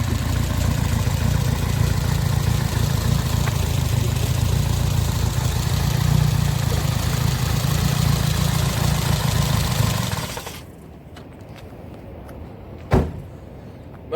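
A Renault Super 5 GT Turbo's 1.4-litre turbocharged engine idles close by with a steady, rumbling low drone. The engine then cuts off, leaving a quiet background and one sharp clunk.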